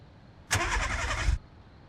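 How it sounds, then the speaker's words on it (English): A truck engine cranks once in the game VEIN, a single close grinding starter whir lasting about a second that stops without the engine catching. "Our truck wouldn't start."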